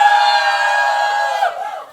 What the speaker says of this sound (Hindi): एक बार हूटिंग करो उसके लिए